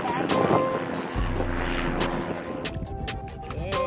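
Aircraft engine drone inside a plane after a bumpy flight, a low steady hum starting about a second in and holding under loud, continuous nearby voices and cabin noise.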